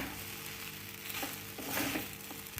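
Sabudana (sago) steams in a pan and gets an occasional stir, giving a steady, close hiss with faint scraping, no voices.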